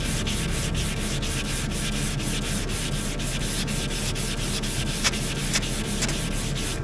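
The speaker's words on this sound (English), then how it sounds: "Now let's do a little bit more sanding." Sanding across body filler with a guide coat on a car panel, a steady, close abrasive rasp of back-and-forth strokes with a couple of small knocks near the end.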